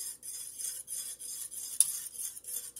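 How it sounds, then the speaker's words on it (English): A spice mixture is stirred in a heated pan, with a steady, soft scraping and rubbing of a utensil against the metal surface. It runs continuously at low volume with rhythmic swirls and one sharper clink partway through. No one speaks. "All you gotta do is stir it."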